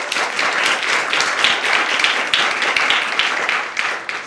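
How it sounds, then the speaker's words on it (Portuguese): An audience in a comedy show claps and applauds loudly and continuously for several seconds, a dense wash of many hands with no speech over it. "Vocês queimaram o aplauso cedo"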